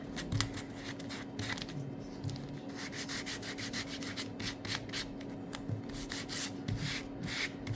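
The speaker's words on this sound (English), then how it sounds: "Here's my sandpaper. I feel like it just needs a good sand." Sandpaper rubs back and forth over painted wooden leaves on a porch barn door decoration, close and steady with quick repeated scratchy strokes and no talking.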